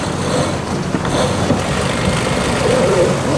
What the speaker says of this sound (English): we got the engines on and just trucking along